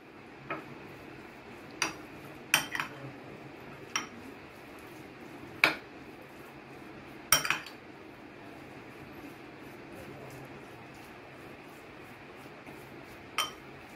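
Raw chicken is mixed with chilli powder and salt in a bowl, producing intermittent sharp clinks and taps of a utensil against the bowl over a low, steady background, with gaps of quiet between strikes.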